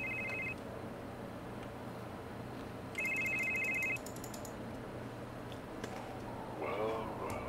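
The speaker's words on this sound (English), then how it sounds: "Where's that ringing coming from?" A phone ringtone rings in a video game, two short electronic trilling bursts separated by a pause, fairly faint over a quiet room tone, with a brief voice near the end.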